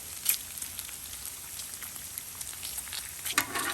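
Beef bacon frying on a Blackstone griddle, a steady crackling sizzle with scattered sharper pops, close and moderately loud with no talking.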